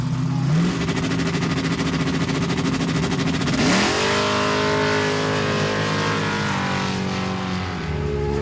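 A drag racing car roars down the strip at St. Marys Airport in Pennsylvania, its engine climbing in pitch through a gear change into a sustained loud, rising wail.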